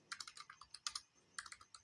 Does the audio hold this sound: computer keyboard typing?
yes